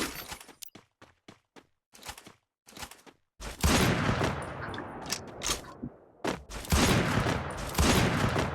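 Gunfire in a shooting video game, starting with rapid clipped single shots and then heavy continuous bursts and impacts, loud and close with no talk over them.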